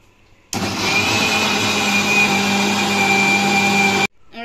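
An electric blender whirs through mango, milk and sugar for a mango shake, a loud steady motor whine starting abruptly and running evenly for about three and a half seconds before cutting off.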